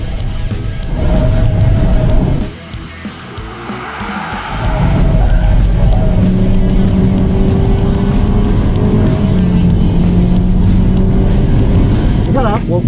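A Proton S70 with a CVT gearbox accelerates hard out of a corner, its engine drone loud and close, swelling after a brief dip and rising steadily in pitch as the car pulls away.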